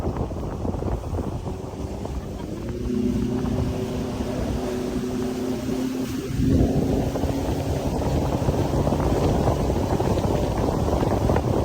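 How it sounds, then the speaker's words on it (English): A speedboat runs across the backwaters near Alleppey in Kerala, its engine droning steadily over heavy wind buffeting and water rush, the motor tone rising a little partway through. "the way he drove the speedboat was amazing"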